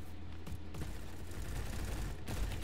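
Dense, muffled SMG gunfire in the online shooter Bad Business, a continuous rattling spray at low level with slight gaps, heard from a player's perspective without speech.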